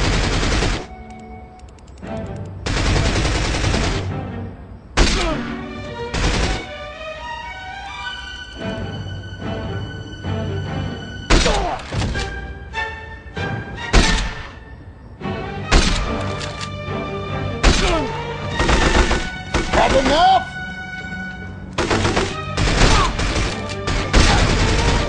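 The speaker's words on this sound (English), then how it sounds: "All right, Sean, fire when ready." Gunfire on command in a shooting test of fictional James Bond weapons, with loud repeated shots in single cracks and rapid bursts, some ringing echoes and metallic pings between volleys, and no talk.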